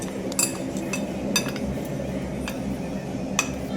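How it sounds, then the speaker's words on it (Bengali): A hand whisk mixing flour and semolina dough in a bowl, repeated light metallic clinks and taps over a steady low rustle, close up and without speech. "এটা আমি এইভাবে হ্যান্ড উইচ দিয়ে এটা মিক্স করে নেব"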